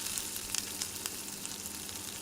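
Chicken pakoras fry in hot oil with a soft, steady sizzle and scattered crackling pops, heard close but fairly quiet, with no voices.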